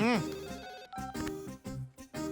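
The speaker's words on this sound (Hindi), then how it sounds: "उसका नाम लिया और उसका फोन आ गया" A phone rings with a melodic ringtone for an incoming call in a dubbed action movie scene, giving a short series of loud, tonal chimes in repeating bursts.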